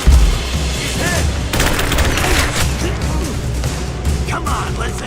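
Gunfire in a firefight, several bursts and booming shots with a rapid fusillade around the middle, loud and close amid shouting voices.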